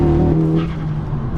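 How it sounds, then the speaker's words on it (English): An Edition 30 car's wheels spin under power, a loud, close, steady engine drone with low rumble and a rough scrubbing edge from the tyres, with no talking. "Wheels are just spinning"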